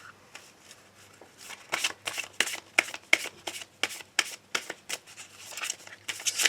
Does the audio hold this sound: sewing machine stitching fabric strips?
no